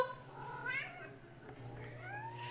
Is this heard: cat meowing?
yes